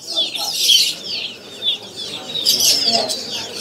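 Caged pelatuk bawang and other small birds calling at a bird market kiosk, with a steady stream of bright, overlapping chirps and trills that swell in two louder bursts.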